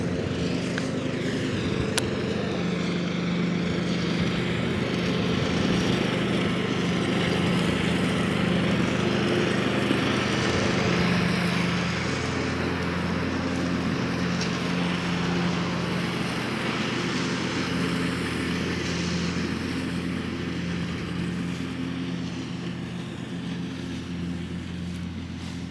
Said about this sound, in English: My daughter's mowing right down here